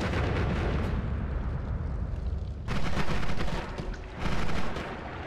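Dense, continuous bursts of wand spells firing in Noita, a roaring crackling barrage with two louder surges, loud and steady with no talking.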